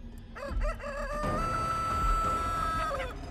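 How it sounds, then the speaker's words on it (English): A giant chicken in the video game Chicken Feet: Breakout DLC crows a loud, drawn-out cock-a-doodle-doo after a few short clucks, close and sustained over a low game background. "Chicken's right there."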